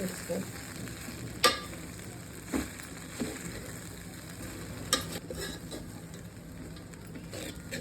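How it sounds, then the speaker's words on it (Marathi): Poha (flattened rice) being stirred and mixed in a pan for quick kanda poha, with a low sizzle and a few sharp spoon-on-pan clinks scattered over a quiet background. "पोहे आता चांगले मिक्स करून घेऊया, एकत्र करून घेऊया."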